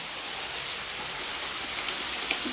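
Steady rain falls in a dense, even hiss of drops on surfaces, constant and fairly close throughout, with no talking.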